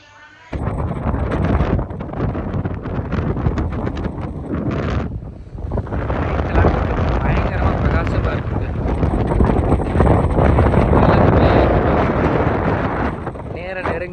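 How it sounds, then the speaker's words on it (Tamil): Strong seaside wind sweeps the coast at Pamban, where fishing boats head out to sea, roaring in heavy continuous gusts that buffet the microphone almost without pause. "சரியான காற்று, நம்ம நிற்க கூட முடியல, அந்தளவுக்கு காற்றா இருந்துச்சுங்க"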